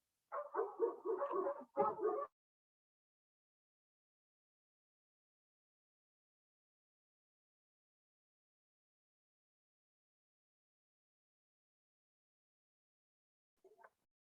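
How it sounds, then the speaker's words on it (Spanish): Dogs bark inside a home in a quick cluster of barks lasting about two seconds, followed by a long silence and one faint, brief yip near the end. "disculpen porque es que los perros ladraron"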